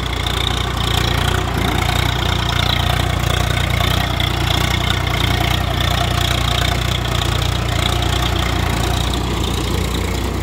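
A Mahindra 744 FE 4 Star power steering tractor engine runs steadily at a constant, loud, rumbling pitch throughout, with no breaks.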